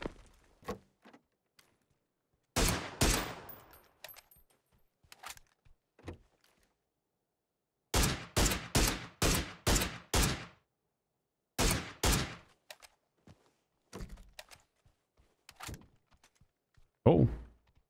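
Suppressed gunfire in PUBG, muffled thudding shots in bursts: a pair early, then a quick string of five or six, more later, with scattered faint clicks between and a final heavier report.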